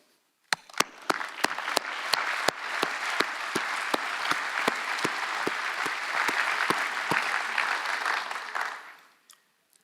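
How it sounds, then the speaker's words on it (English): Applause from the audience at a corporate annual general shareholder meeting, a dense steady wash of clapping from a large hall with sharp individual claps standing out, running nearly ten seconds before stopping abruptly. "Let's take a moment for applause here"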